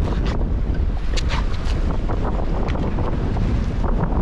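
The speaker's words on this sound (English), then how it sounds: "now I'm gonna try to drag the sail on board" Sail hauled aboard a sailboat moving at about five knots, water rushing past; steady loud wind buffeting the microphone throughout, with brief scraping and flapping bursts over a constant roar of wind and water.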